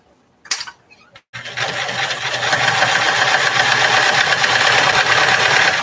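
Sewing machine stitching onto a scrap piece of fabric, a few brief clicks and a pause, then a steady, loud, close mechanical whirr running continuously to the end.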